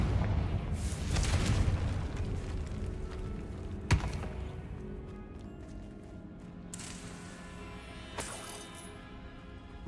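A Confringo fire spell explodes in Hogwarts Legacy, a loud booming burst over a dense game soundscape, followed by a few sharper cracks and pops.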